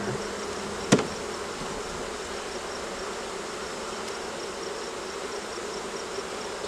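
Honey bees drone steadily in an open beehive during a hive split, a continuous mid-level buzz throughout with one sharp knock near the start.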